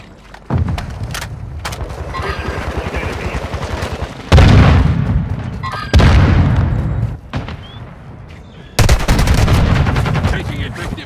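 Loud, sustained automatic gunfire in Call of Duty: Warzone, with rapid bursts and heavy booming shots coming in waves and separated by brief pauses.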